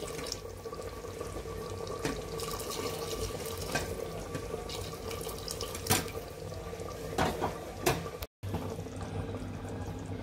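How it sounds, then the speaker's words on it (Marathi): Hot water is poured into a pot of Kolhapuri chicken curry, giving a continuous splashing, gurgling flow with occasional louder splashes, close by and without talking. "ह्याच्यात मी आता गरम केलं आहे पाणी घालते।"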